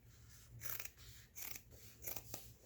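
Scissors cutting paper for a handmade billowing journal: four crisp, quiet snips at a steady, unhurried rhythm, close up, with no talking.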